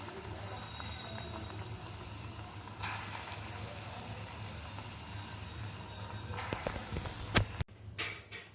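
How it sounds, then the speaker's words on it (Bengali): Chana dal fritters (bora) sizzle steadily in white oil in a kadai over medium heat, a constant frying hiss with a couple of sharper clatters near the end. "এইভাবে এক এক করে বড়াগুলো সব ভেজে নেব, হালকা ব্রাউন করে"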